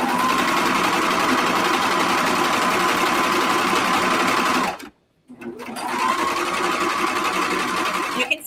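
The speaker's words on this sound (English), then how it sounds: "we're sewing around the second pocket" Sewing machine stitching around a sweatpants pocket, a steady close whirring drone that stops briefly about halfway, then spins back up and runs on.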